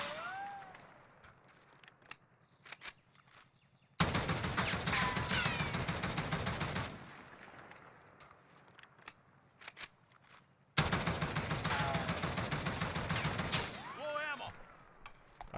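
Two long sustained bursts of automatic fire from an Oden rifle in Warzone, each lasting a few seconds, with brief scattered shots and quiet gaps between them.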